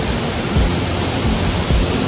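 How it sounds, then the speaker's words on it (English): Henrhyd waterfall in Wales rushes in a steady, loud, close roar of falling water, an unbroken wash of noise with no voices. "We're walking there to go behind a waterfall."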